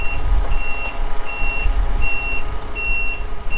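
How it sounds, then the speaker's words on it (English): A truck backs up on a cement deck installation site, its reversing alarm beeping in steady repeated pulses over a continuous low engine rumble. "What are the possibilities of him backing that truck up that hill back there?"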